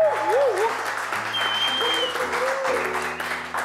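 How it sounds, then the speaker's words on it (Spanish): A studio audience at a Spanish-language TV show applauds steadily and loudly, with background music running beneath the clapping. "¡Fuerte el aplauso!"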